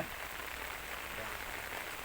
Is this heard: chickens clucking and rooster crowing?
no